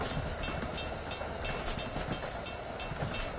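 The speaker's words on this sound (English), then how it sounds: "train tracks have got a sound." Train wheels clatter steadily over rail joints in Train Sim World, a continuous rolling rumble with rhythmic clicks from a Boston Sprinter passenger service, fairly quiet with no talk over it.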